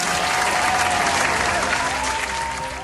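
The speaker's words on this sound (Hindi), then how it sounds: "सबसे पहले जोरदार तालियों के साथ स्वागत कीजिए" A television gospel singing competition audience bursts into loud, sustained applause to welcome a judge, a thick continuous roar of clapping with crowd noise that holds steady throughout.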